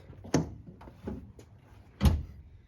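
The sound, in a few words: opening a Toyota Tundra tailgate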